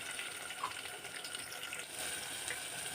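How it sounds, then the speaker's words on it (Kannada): Green chillies and onion sizzling in hot oil: a faint, steady hiss with scattered light pops and crackles, continuous and fairly soft, with no talk. "ಹಾಗೆ ಈರುಳ್ಳಿ ಕೂಡ ಹಾಕ್ಕೊತಾ ಇದ್ದೀನಿ."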